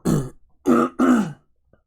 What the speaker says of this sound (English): I'm trying not to like clear my throat in the microphone because I know it's pretty loud